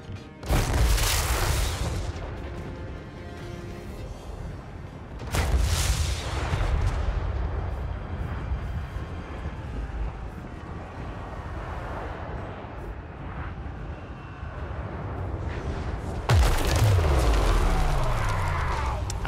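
Artillery firing at will in Total War Warhammer 3, heavy booming blasts at intervals of several seconds, each followed by a rolling rumble, with battle noise filling the gaps between shots.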